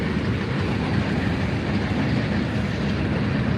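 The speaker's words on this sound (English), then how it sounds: "There's a number 7 train passing off in the background." A number 7 train rolls by in the background at an outdoor festival, a steady, loud rumble with clickety-clack wheels that holds constant without speech.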